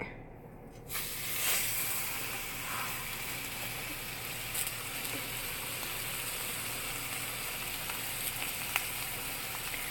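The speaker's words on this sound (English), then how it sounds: "I'm going to go ahead and add it to my hot pot that has oil in it." Floured, seasoned beef roast browning in hot oil in a pot, a steady close sizzle and hiss that starts with a burst as the meat goes in and keeps crackling evenly throughout, with no talking.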